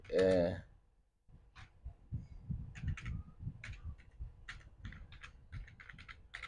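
Typing on a computer keyboard: a steady, fairly quiet patter of key clicks in uneven bursts, following a brief sigh-like breath at the start.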